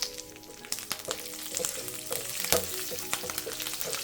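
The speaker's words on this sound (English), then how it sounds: "Give it a quick saute." Dals, curry leaves and asafoetida being quickly sautéed in a hot oiled pan, a close crackling sizzle with short stirring scrapes and a few sharper pops.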